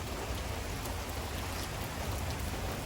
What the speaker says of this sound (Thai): บรรยากาศย่ามฝนตกอากาศดีมากเลยเนี่ย